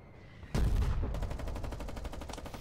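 Artillery guns firing in the Foxhole war game: a loud heavy blast erupts after a quieter opening, followed by a rapid rattling train of repeated shots and a rolling, echoing tail.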